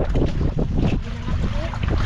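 Strong wind at sea roars steadily across an open microphone on a fishing boat, with a constant low rumble of water and the boat underneath.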